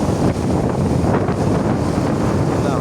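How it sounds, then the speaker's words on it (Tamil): A storm drives huge waves that crash and surge nearby while strong wind buffets the microphone. The roar is dense and continuous. "எல்லாம் அலையை அப்படி அடிக்குது."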